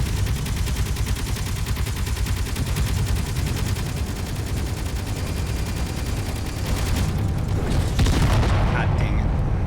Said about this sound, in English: they're shooting freaking missiles at me